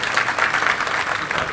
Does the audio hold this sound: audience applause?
yes